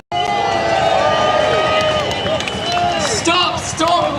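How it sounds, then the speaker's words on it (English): A crowd of blue-clad protesters at a clean water march in London raises a loud sustained cheer, whoops and yells layered over dense babbling voices close by, with a bit of clapping. "can we have a loud cheer?"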